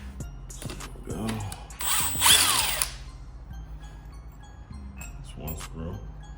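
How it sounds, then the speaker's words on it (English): Impact wrench or drill breaking loose and backing out bolts on a Mercedes CLS 500 motor during teardown, a loud whirring burst of about one second in the middle, with clinks and handling noises before and after. "I'm gonna take my impact and drill them out."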